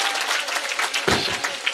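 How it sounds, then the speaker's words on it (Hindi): Loud, dense applause from an audience at a Jhulan festival gathering in a temple in Deodha, steady throughout with a fuller burst of clapping near the end. "जोरदार ताली से इस महफिल को गुंजा"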